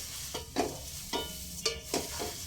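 Flattened rice (poha) is stirred over a low flame in a pan as it dry-fries crisp. Several soft scraping and stirring strokes come at an irregular pace, faint and close, over a light hiss, with no speech.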